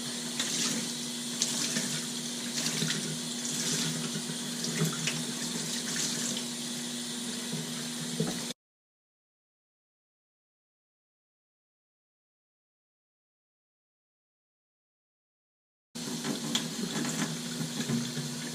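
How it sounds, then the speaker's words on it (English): Tap water runs over the filter holder of a Fluval 406 aquarium canister filter, a steady close splash and gurgle that cuts out to silence midway and then resumes; no one speaks. "Then you just rinse out the holder here."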